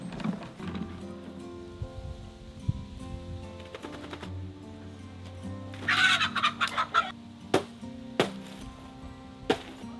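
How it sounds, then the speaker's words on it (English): Backyard chickens cluck and murmur steadily nearby during freezing winter chores, with a few louder squawks and scattered clanks of feeders or gear among them. "So let's go take care of the chickens."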